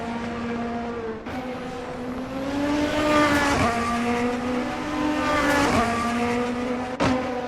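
Race cars in a racing video game, at Okayama GP, drone steadily with whining engine tones rising and dipping through gear shifts, close and loud, with a few sharp clicks.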